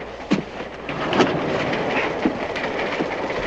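A train runs on rails, giving a loud continuous rumbling clatter with scattered sharp knocks and thumps, steady throughout and with no talking.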